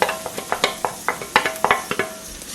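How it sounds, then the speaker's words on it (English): Ginger and garlic fry with browned onion in a pan while a utensil stirs, giving a steady sizzle broken by about a dozen sharp, rhythmic scraping strokes, close and moderately loud. "Okay, let's fry this for 3 to 4 minutes."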